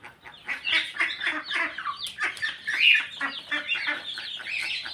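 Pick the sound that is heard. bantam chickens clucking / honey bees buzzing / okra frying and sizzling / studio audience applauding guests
bantam chickens clucking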